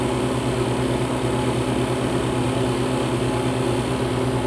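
A home freeze dryer runs in a heated garage, giving a steady, unbroken mechanical drone with a low hum and broadband whir, constant in loudness and heard alone without speech.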